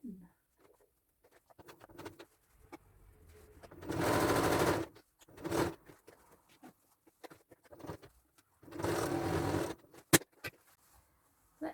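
A domestic sewing machine stitches a skirt seam in two short rattling bursts of about a second each, separated by quiet handling and small clicks.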